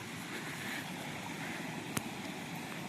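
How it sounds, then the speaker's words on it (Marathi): Water pours strongly into a storage tank, making a steady broadband rush that stays even at close range, with one brief knock partway through. "पाणी पण जोरातच चालू आहे"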